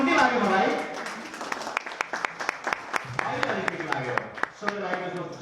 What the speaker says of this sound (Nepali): सबैजना ताली बजाउनु